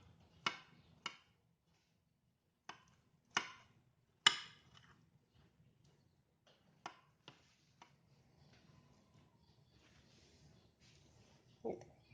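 Knife cutting through a rolled egg omelette (tamagoyaki) on a board, several sharp chopping taps spaced a second or so apart, close and clear, with quiet pauses and a softer scrape near the end.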